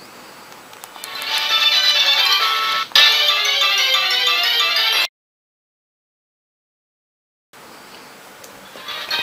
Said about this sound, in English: I'm going to phone up Kurt and give him a piece of my mind